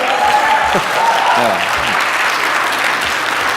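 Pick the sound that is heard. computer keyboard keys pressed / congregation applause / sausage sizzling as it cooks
congregation applause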